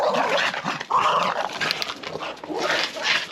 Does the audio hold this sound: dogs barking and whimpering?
yes